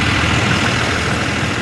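A big yellow diesel school bus idles at an early-morning pickup, its engine giving a steady, continuous low rumble with an even broadband roar and no other sound.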